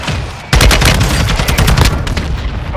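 Rapid bursts of gunfire from the video game Warzone Rebirth, loud and dense, starting abruptly after a quieter moment and continuing as overlapping shots and impacts throughout.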